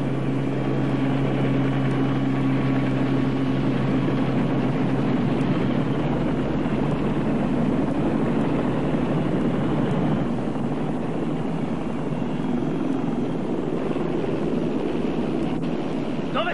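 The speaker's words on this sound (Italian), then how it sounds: "Quell'aereoambulanza laggiù è pronta per partire." A continuous droning aircraft engine on an air ambulance in an action film holds a loud, even hum with windy rushing noise throughout.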